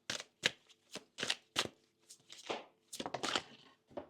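Tarot cards are handled and shuffled, giving close, quick bursts of papery riffling and soft slaps, separated by short pauses and with no one talking.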